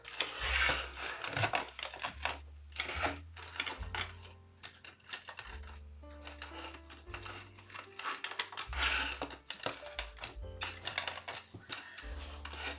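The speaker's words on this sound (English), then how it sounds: "scrunch right down the center till you get to the other side" Deco mesh being scrunched and handled while a New Year's wreath is made, giving close, steady crinkling and rustling that comes in bursts over a low musical background, with no talk.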